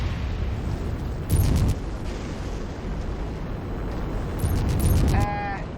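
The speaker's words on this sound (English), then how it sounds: "Incoming missile." An incoming missile explodes in a video game: loud, rumbling booms in two heavy bursts over a continuous roar, followed by a short electronic beep pattern.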